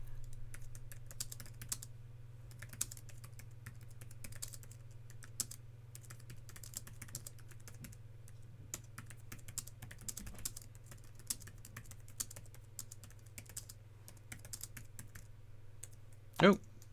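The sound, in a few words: typing on Logitech Slim Folio Pro iPad keyboard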